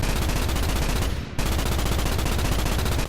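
Marauder rifle fire in Starship Troopers, a loud, dense stream of rapid shots broken by one brief pause before the burst resumes, with no talking.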